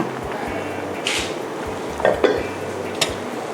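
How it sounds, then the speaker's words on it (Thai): Pieces of snakehead fish go into simmering coconut milk with herbs, giving a few soft splashes and clunks over a low cooking bed, close by. "เราก็จะนำเนื้อปลาช่อนนะคะ ลงไปต้ม"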